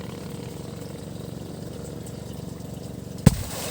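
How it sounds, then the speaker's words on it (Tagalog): A steady engine-like rumble runs along until a single firecracker goes off underwater, one sudden, loud, muffled thump near the end, followed by the continuing low drone. "Firecracker underwater mga boss. Paputukin sa ilalim ng tubig."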